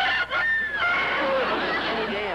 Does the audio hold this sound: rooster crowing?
yes